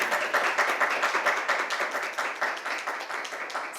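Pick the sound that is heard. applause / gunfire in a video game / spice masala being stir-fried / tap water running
applause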